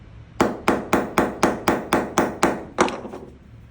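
Hammer taps on a Disston 22-inch panel saw plate resting on an anvil, nine sharp, evenly spaced metallic strikes close up, each ringing briefly before the next, with no talking.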